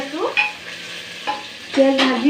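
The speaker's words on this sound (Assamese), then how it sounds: "এয়া ইপিনে পিঁয়াজ ভাজি" Onions frying in a pressure cooker on a home stove, a short stir with a couple of scraping clicks over a soft sizzle, close and fairly loud, with no voices.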